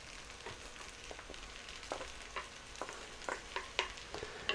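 Black beans are stirred into a pan for a cheese and chili rice bake, soft irregular scraping and clicks over a faint steady sizzle, quiet and close.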